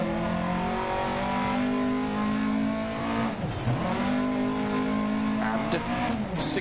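Rally car engine in a racing video game revving steadily at high pitch, dipping briefly as it shifts and climbing again, loud and continuous with a co-driver's voice over it.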